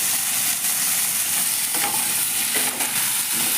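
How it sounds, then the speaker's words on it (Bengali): Bottle gourd pieces fry in hot oil with a loud, even sizzle up close, broken by a few scraping stirs of a spatula against the pan, with no voices. "এই তেলের মধ্যে আমি এবার লাউটাকে একটু ভেজে নেব"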